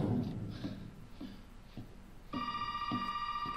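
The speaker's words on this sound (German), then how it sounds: "jetzt klingelt das Telefon" In Resident Evil 7, a telephone begins ringing partway through, a bright electronic ring holding steady over faint footsteps and room noise.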